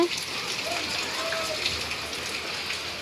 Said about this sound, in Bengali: সকাল থেকে বৃষ্টি পড়ছে, এখনও কমে নাই